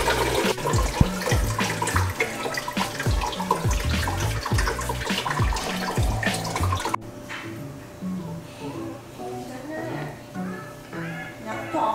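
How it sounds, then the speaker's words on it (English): Water leaks from a pipe on a Red Sea Reefer 350 marine aquarium and splashes into a drain, a steady trickling and dripping that briefly drops lower in level partway through while someone talks over it. "So you can see the pipe right here is leaking a little bit, so I gotta figure that out. Good thing it's going into the drain."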